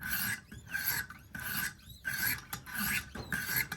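A knife blade, a Sebenza clone, is stroked across a coarse sharpening stone, repeated rasping scrapes in a steady back-and-forth rhythm, close and clear.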